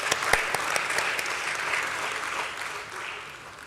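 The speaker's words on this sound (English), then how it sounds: "Let's have a huge round of applause for him" Sustained audience applause at an NIIT Learning Systems Limited stock listing ceremony, a dense steady round of clapping filling the hall and slowly easing off toward the end.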